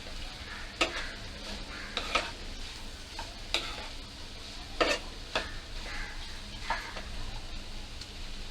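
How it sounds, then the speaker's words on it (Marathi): Chopped broad bean pods (vali shenga) are sautéed in a pan, a soft sizzle under repeated sharp scrapes and clinks from a spatula stirring at an uneven rhythm. "आता हे चांगले परतून घेते"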